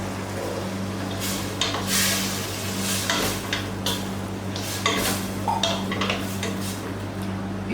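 Butternut squash pieces go into a pot of softening root vegetables, with clattering, stirring and scraping against the pan over a low steady hum and soft sizzle.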